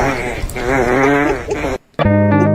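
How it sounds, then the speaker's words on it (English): A person farting: a long, loud, buzzing low rumble lasting well over a second, then a brief silence and another sharp, tonal burst close to the microphone. "I'm sorry for farting"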